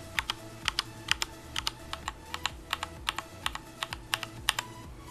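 A mechanical keyboard with Cherry Red switches types in a quick, uneven run of close, crisp keystrokes, with no voices.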